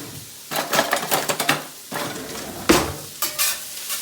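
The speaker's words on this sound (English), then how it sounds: "cook the carrots and the onion with the ground beef until the ground beef is all browned up" Ground beef, carrots and onion browning in a pan for shepherd's pie sizzle under a spoon's repeated scraping and stirring strokes, close and fairly loud, with occasional clanks against the pan.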